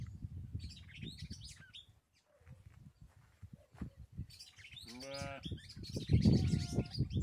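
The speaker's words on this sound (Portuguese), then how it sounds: "Olha o galho de campina cantando aí, ó." A red-cowled cardinal (galo-de-campina) sings near a rural farm with grassland, its bright chirping phrases rising over a background of low farm-animal noises, with goat- or sheep-like calls mixed in.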